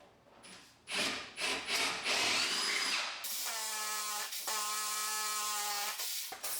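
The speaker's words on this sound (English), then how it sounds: "I'm using a larger diameter drill bit to counterbore the holes" A power drill with a larger-diameter bit counterbores holes in a dot-and-dab wall, whirring in short bursts against the hard surface, then settling into a long steady high-pitched spin before cutting off.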